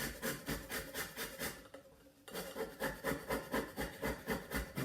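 Frozen ginger is rubbed back and forth over a grater in quick rhythmic scraping strokes, close and fairly quiet, with a brief pause midway before the strokes resume.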